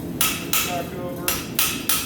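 Sharp hammer blows ring out as a blacksmith forges hot metal at the anvil, five crisp strikes at an uneven pace with short ringing decays, close and clear with no talk.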